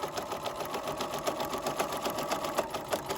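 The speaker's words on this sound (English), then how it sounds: "So we're sewing forward, lining up that stitching line as best we can with that line in the middle of the presser foot" A sewing machine runs steadily, stitching the folded bottom of a drawstring bag, its rapid even needle rhythm continuous and close for the whole stretch.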